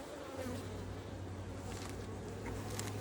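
Honey bees swarm around an open Langstroth beehive during an inspection, their dense, steady buzzing close and continuous with no let-up throughout.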